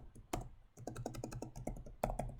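Quick bursts of typing on a computer keyboard, a rapid run of close, crisp key clicks with a couple of louder taps, recorded quietly with no talking.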